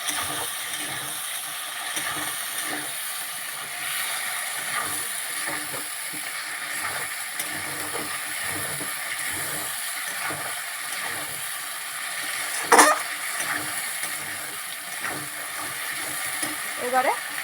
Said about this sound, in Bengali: তারপরে দেব ধনে গুঁড়ো দিয়ে আবারও ভালো করে